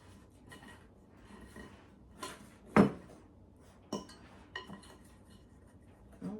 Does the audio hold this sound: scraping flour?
yes